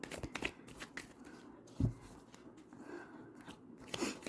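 Tarot cards being shuffled by hand, giving a few quiet, irregular riffling and snapping bursts with a louder slap near the middle and another toward the end.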